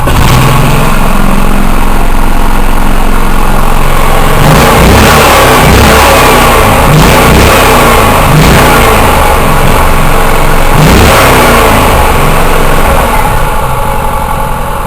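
A small generator engine with a loose, wobbly mount sputters and catches, then runs at a loud, uneven rev with rough surges before settling, all close by with no talking.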